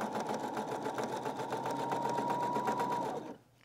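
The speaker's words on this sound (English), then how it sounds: "I'm just letting the machine just bring it right in." A sewing machine stitches a Rising Star quilt block in a rapid, steady run of close mechanical needle strokes that stops abruptly at the end, with no talking.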